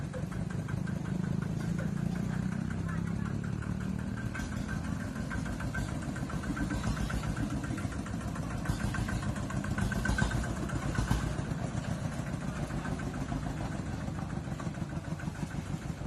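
A small 11 hp single-cylinder farm vehicle engine idles steadily and close by, a continuous rapid knocking chug with slight rises in intensity.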